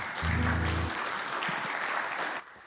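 Audience applause for a singer at a climate action event, a steady, dense wash of clapping throughout, with a short low musical tone near the start, ending abruptly after a couple of seconds.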